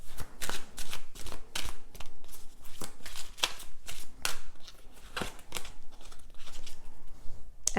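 Tarot cards are handled and shuffled close up, giving repeated crisp riffling bursts in an uneven rhythm with short pauses between them, and no talk over them.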